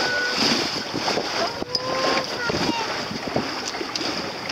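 Waves from a passing motorboat slap against a small sailboat near catamarans, a choppy wash of water mixed with wind buffeting the microphone and people talking on board.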